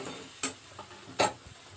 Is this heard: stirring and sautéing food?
yes